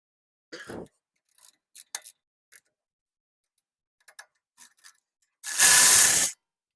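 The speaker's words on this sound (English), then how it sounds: "So now we remove the 17 millimeter bolt right here and the one in the bottom over here." Brake caliper bolts of 17 mm are worked loose on a 2015-2023 Toyota Tacoma, giving sparse, close metallic clicks and ticks followed by a loud, sustained burst of a power tool near the end.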